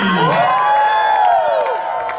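A loud audience at the Polynesian Cultural Center on Oahu, Hawaii cheers and screams together, with high shrill voices rising and falling over a steady roar.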